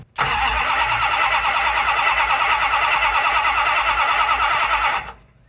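A vintage circle-track Dodge Charger engine with a freshly installed camshaft cranks and fires, then holds a loud, steady roar for about five seconds before cutting off abruptly, close by and with no voices.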